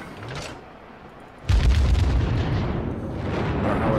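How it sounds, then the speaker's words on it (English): Guns of the USS New Orleans cruiser fire in World of Warships. A faint early thump is followed by a loud booming salvo that rolls on and rumbles away. "See if we can't give him some parting shots as well."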